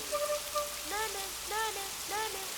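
Rain falls during sunshine in a film scene, a soft continuous hiss beneath a few short tonal calls that repeat in brief bursts, quiet and even throughout.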